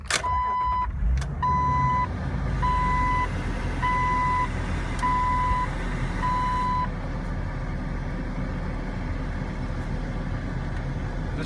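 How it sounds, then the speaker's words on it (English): Viper car alarm system on a modded Jeep Wrangler TJ, loud repeating electronic beeps chirping in a steady pulsing rhythm for several seconds, then stopping, leaving a low idle hum. "Vehicle also has a functioning Viper alarm system."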